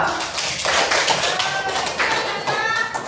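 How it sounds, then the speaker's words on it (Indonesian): Hands clapping during a classroom coaching session on academic supervision, a busy scatter of claps with some taps and thuds, and a few voices briefly heard alongside. "tepuk tangan dulu"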